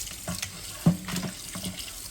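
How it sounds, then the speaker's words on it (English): Tap water splashes and trickles unevenly into a sink, with soft clatters and slaps of raw chicken being rinsed. "we're gonna rinse this chicken off"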